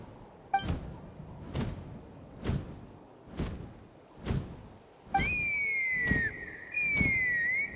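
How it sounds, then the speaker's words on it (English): A whistle in the video game Genshin Impact sounds as two sustained, slightly falling tones in the second half, following a run of evenly spaced dull thuds. "That sounded like a whistle."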